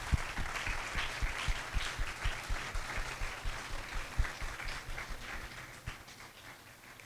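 Teachers applaud students at a Teachers' Day celebration, a sustained round of clapping from an indoor audience at moderate distance that tapers off toward the end.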